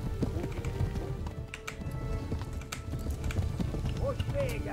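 Rapid rhythmic hoofbeats of a galloping horse in Kingdom Come: Deliverance run continuously under ambient game sounds, with occasional faint tonal effects.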